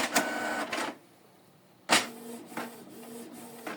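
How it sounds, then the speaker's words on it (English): A Canon Pixma TS3350 printer copies a document in two bursts of mechanical whirring and clicking, pausing briefly in between, steady and close. "You can see that the document is copying without selecting from the control panel."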